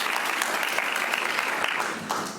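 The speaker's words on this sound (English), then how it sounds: "So a big round of applause." Audience applause for school principals on Principal Day at a Deltona city commission meeting: a full, continuous round of clapping from the room, steady and fairly loud throughout, easing slightly near the end.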